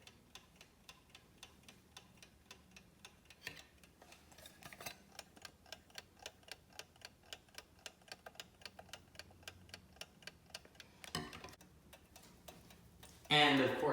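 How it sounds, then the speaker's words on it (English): Mechanical alarm clock ticking steadily at close range, a regular run of sharp clicks over faint background noise, with a brief rustle near the end and a louder burst of handling noise at the close. "after a few more seconds of this thing ticking."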